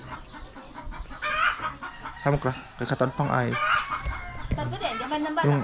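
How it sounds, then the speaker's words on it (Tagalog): Chickens cluck in a barnyard chorus while a person talks over them, with short repeated calls rising above the conversation. "Manok talaga"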